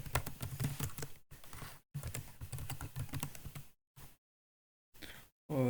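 Name being typed on a computer keyboard during Microsoft Access data entry, with bursts of rapid, close key clicks broken by short pauses and brief silences.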